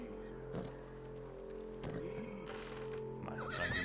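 A horse in the video game Red Dead Redemption 2 whinnies and snorts up close, with a few hoof clip-clops and a steady low in-game hum beneath.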